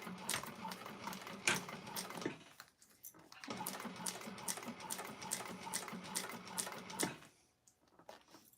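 Industrial sewing machine top stitching a clutch wallet at a long stitch length, a quiet rapid clatter of needle strokes in two runs broken by a brief pause.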